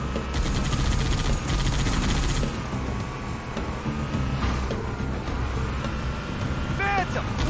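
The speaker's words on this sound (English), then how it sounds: "They've got a turret!" Turret gunfire in a Halo video game battle, rapid sustained firing mixed into a dense, loud wash of game effects and music.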